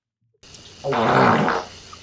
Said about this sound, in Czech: asi jste to pochopili díky tomuhle prdu